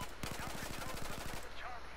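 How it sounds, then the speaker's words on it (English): Rapid bursts of M4 rifle fire in Battlefield 4 on the Golmud hilltop map, a tight string of close, loud shots in quick succession, cut off abruptly at the end. "this M4 is beautiful with the burst fire"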